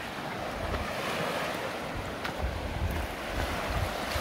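Ocean surf washing onto the rocky shore at Puako, Hawaii, a continuous loud roar of waves mixed with heavy wind buffeting the microphone, with no talking.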